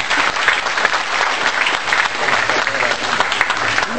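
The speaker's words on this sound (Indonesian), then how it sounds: "Tepuk tangan untuk Mas Sujiwo Tejo." Audience applause at a memorial gathering, steady dense clapping filling the whole stretch at close range with no voices on top.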